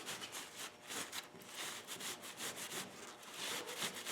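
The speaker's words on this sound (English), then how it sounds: "And take my rag" A rag wiping down a bicycle disc brake rotor during a Tektro Auriga Pro pad replacement, making steady, close rubbing and swishing strokes that repeat continuously with no talking.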